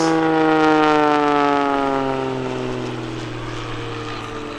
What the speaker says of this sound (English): He's going to bring this airplane around for his photo pass.